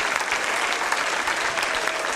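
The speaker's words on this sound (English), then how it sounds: "Let's clap for Ms. Raimondo and the students." Audience applause at an elementary school music program, steady dense clapping from a crowd filling the room with no voices over it.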